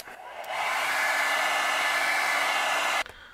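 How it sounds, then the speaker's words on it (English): A hair dryer, used to dry paint on a fishing lure before removing a stencil, switches on and blows with a loud, steady whoosh for a few seconds, then cuts off abruptly. "let's hit it with the hairdryer real fast"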